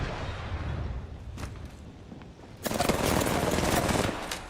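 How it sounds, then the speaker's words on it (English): Gunfire in the Apex Legends video game: scattered shots early on give way to a loud, dense burst of automatic fire that runs to the end. "Listen up, I'm getting shot at."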